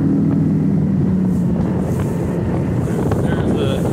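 Steady wind buffets the microphone at a lake boat ramp beside a 2017 Ranger RT 188 boat, a constant loud rumble with faint background sounds throughout.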